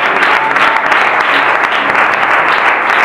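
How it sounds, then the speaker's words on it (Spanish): A church congregation claps together in a sustained, loud wave of applause at a Christian worship service, dense and continuous with no speech over it. "Más fuerte, por favor, aplauda a Dios."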